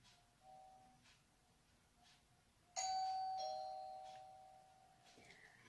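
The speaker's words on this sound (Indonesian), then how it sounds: "bel rumah berbunyi." A house doorbell sounds a single clear chime partway through a quiet room, its ringing tone decaying slowly over a couple of seconds, with faint background noise and no talking.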